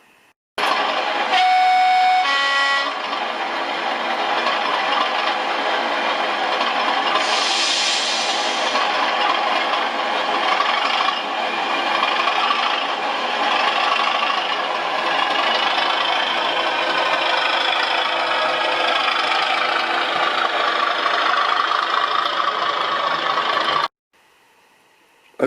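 Model class 33 diesel locomotive 33012 sounds a brief two-tone horn at the start, then its engine drones steadily and fairly loud for about twenty seconds before cutting off abruptly.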